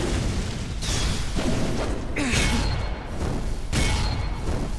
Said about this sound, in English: Blood demon art. Exploding blood!